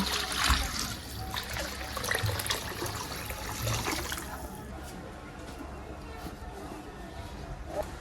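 Water runs into a wok of lentils to boil them, a loud splashing pour that tapers off into a softer trickle and quiet simmering.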